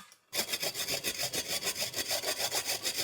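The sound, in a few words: grating galangal on a grater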